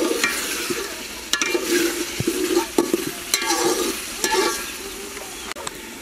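Whole spices and masala being fried and stirred for aloo masala pulao, with steady sizzling broken by repeated scrapes and knocks of a spoon against the pan, fairly close with no voices.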